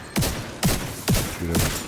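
Gunfire in The Division 2 video game: four loud, sharp bursts, evenly spaced, as the Loot Goblin is shot. There is no talking.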